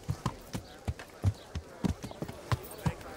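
A horse's hooves clip-clop on hard ground in the medieval role-playing game Kingdom Come Deliverance: a steady walking rhythm of fairly quiet, sharp thuds, about three or four per second.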